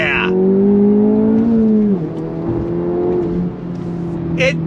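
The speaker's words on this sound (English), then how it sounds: "let's go on throttle from a slow roll here. On throttle, here we go." A 2024 Acura Integra Type S with a limited-slip differential pulls on throttle from a slow roll, its engine note droning steadily and rising, loud from inside the cabin, with a brief dip near the middle.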